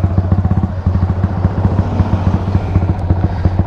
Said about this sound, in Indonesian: fast throttle